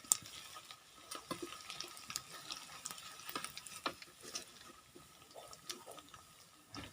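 Onion pakoras frying in oil, soft sizzling with intermittent stirring and scraping clicks, fairly quiet and close, without talk.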